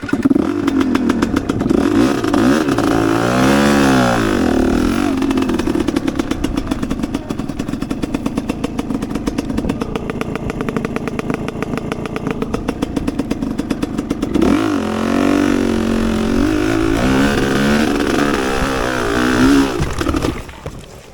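An enduro dirt bike engine revs loudly and continuously up close while stuck in mud, its pitch rising and falling as the throttle is worked for about twenty seconds before it cuts off.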